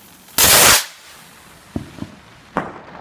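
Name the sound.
fireworks exploding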